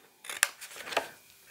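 Scissors cut small slits into paper for a scrapbooking mini album: a few crisp, close snips with short pauses between them, in an otherwise quiet room.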